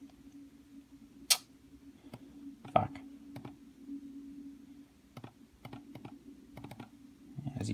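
A computer keyboard typed on while entering data, scattered clicks and short bursts of keystrokes over a steady low hum, with a few louder taps standing out.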